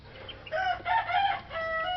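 Young chickens cluck and let out a rough, scratchy half-crow, fairly quiet, with a few short calls.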